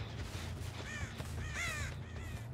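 Crows caw repeatedly inside the Dead by Daylight horror game, a few harsh calls standing out over a steady low game-ambience rumble.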